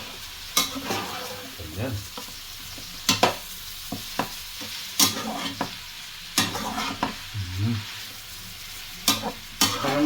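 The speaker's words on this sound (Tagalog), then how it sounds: "Ihalo natin yung ating dila ng baka." Beef tongue stirred in a sizzling pan with ricado spices, a steady frying crackle punctuated by sharp scrapes and clacks of the utensil at irregular intervals, with a brief spoken word.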